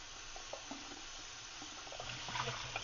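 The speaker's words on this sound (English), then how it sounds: "we want to run a little bit of cold water on them just to cool them" Cold tap water runs steadily over hot boiled eggs in a pan at a kitchen sink, a continuous splashing stream with small knocks and clatters, close and moderately loud.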